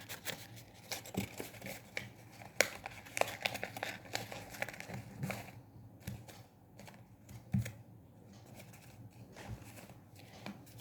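Paper being folded and creased into an origami box, with crinkles, soft taps and brief rustles coming in irregular bursts close up.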